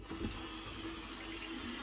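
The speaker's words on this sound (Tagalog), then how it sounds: "Lagyan natin ng tubig." Water poured into a cooking pot for noodle broth, a soft, steady trickling rush that holds evenly throughout, fairly faint and with no talk.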